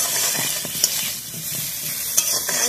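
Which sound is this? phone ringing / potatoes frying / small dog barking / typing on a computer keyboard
potatoes frying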